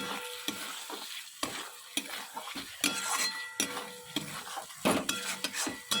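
Ground spices sautéing in fish oil from an aar fish in a pan, with a steady crackling sizzle broken by repeated scraping stirs and occasional utensil clinks, close and fairly quiet.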